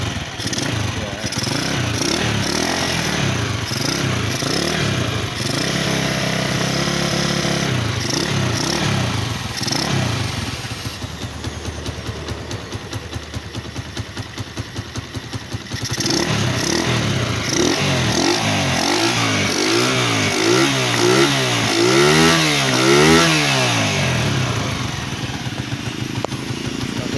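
A 2010 Honda TMX 155 motorcycle engine, long stored, runs steadily throughout, idling with a rough, uneven chug and a few rising revs near the end, loud and close.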